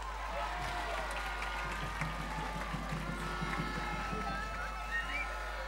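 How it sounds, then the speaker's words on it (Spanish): A crowd at a scout group gathering claps and cheers for a young boy named Javi, a steady wash of applause running the whole time with a low hum underneath. "¡Un aplauso para Javi!"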